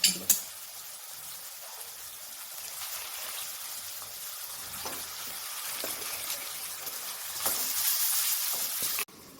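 Chicken pieces tipped into hot oil with browned onions and turmeric, sizzling and frying steadily throughout, with the crackle swelling louder toward the end before cutting off sharply; no voices.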